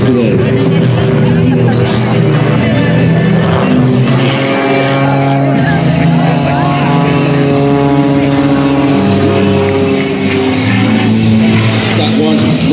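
A propeller airplane's engine drones loud and close during a routine at the 2021 Leesburg Airshow, its pitch rising and falling as it maneuvers, with crowd babble and talk beneath.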